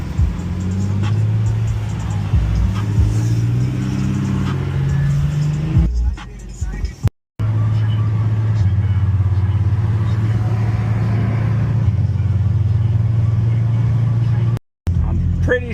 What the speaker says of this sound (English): There's a V8 Mustang here